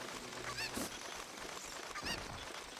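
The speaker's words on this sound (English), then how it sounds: "I hope you like chicken noises, though, because this cuckoo is going to stay with us for a bit." A cucco chicken in The Legend of Zelda: Ocarina of Time lets out two short, squawky honking clucks, spaced well apart over faint game background noise.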